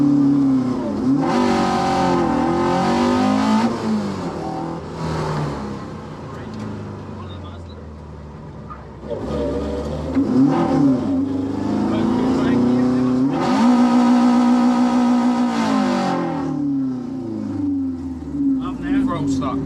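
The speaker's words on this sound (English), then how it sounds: "It looks like everyone's firing up their engines to leave." Several classic cars at a Summit Run gathering fire up and rev their engines in repeated rising and falling surges, loud and close, with one car's throttle apparently sticking; people talk in between.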